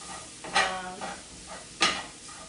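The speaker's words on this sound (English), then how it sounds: "the vegan plant-based does not take a very long time to cook" Beyond plant-based meat cooks in a pan, giving a soft, quiet sizzle broken by two sharper bursts of stirring or scraping, with no talking.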